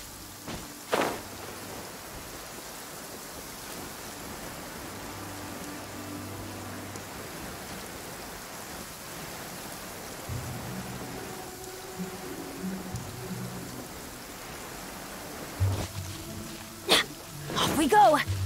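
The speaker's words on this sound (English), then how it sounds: "It always rains when I go on an adventure." Steady rain hisses continuously outdoors, with a few sharp taps and brief louder moments, and a voice sounding faintly now and then.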